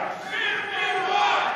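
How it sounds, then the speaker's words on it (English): A rally crowd roars and shouts, and the mass of voices swells and holds loud across the moment without a single clear speaker. "This is a hell of a nice crowd."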